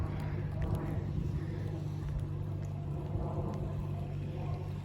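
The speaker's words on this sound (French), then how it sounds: "Je suis désolé pour le bruit du tracteur." A tractor engine's low, steady rumble drones throughout, constant and somewhat distant, with faint outdoor noise layered on top.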